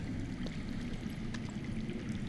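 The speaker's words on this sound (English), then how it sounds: "I hear water. From underground." Running water flowing underground in the Game of Thrones video game, a faint, steady trickling murmur with no voices over it.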